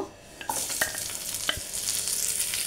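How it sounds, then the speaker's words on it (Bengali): Onions dropped into hot oil with bay leaf, cinnamon, cardamom and cloves, bursting into a bright loud sizzle after a quiet start, with a few sharp spatters and clinks. "এবার এর মধ্যে আমি পেঁয়াজগুলো দিয়ে দেব"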